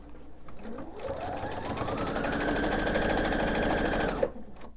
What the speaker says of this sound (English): continue sewing all the way around